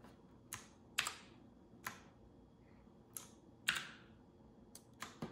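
Keys on a FIODIO mechanical gaming keyboard with rainbow LED backlighting are tapped one at a time, about eight sharp, quiet clicks at uneven intervals with no talking.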